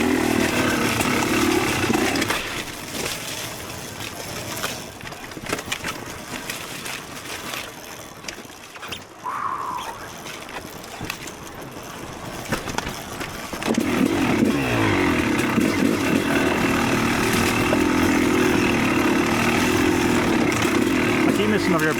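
A Yamaha YZ300 dirt bike engine runs hard at speed, a loud buzzing two-stroke drone that dips midway then surges back up, with a rider talking over it.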